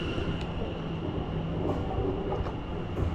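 A train rumbles steadily nearby with continuous wheel and rail noise and a faint high whine over the top.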